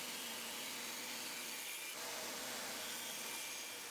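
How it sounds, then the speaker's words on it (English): A bandsaw cutting a 2x10 wood board gives a continuous, loud, rough whirring rasp that barely changes over a few seconds, with no talking. "On the bandsaw, cut as close as you can to the line"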